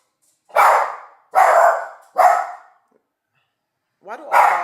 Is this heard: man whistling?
no